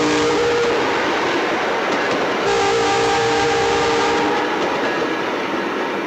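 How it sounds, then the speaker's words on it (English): Westbound Amtrak passenger train with new coaches rolling past the Sedalia depot, a loud steady rumble of wheels and cars filling the whole stretch, with faint horn-like tones rising partway through. "Westbound Amtrak going live with some of these new coaches on it as well."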